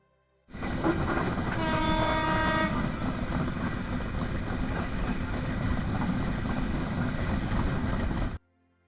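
The Dhumketu Express pulls away toward the Jamuna bridge with a loud, steady rolling rumble, and a brief horn blast sounds early on. The noise cuts off abruptly, and no voices are heard.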